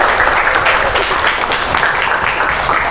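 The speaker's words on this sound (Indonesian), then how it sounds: "Tepuk tangan untuk Ami" Classroom of students gives a short burst of steady applause for a classmate, a dense, even clatter of hands lasting about three seconds with no talking.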